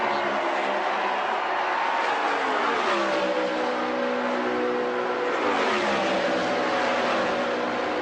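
An IndyCar race car at the Indianapolis 500 screams down the backstretch, its engine a loud, continuous high-revving roar that shifts pitch as it passes, with crowd noise blended underneath.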